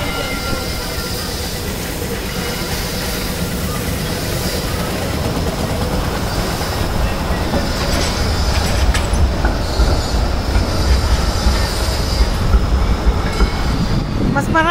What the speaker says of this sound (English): Mas marami palang tram dito.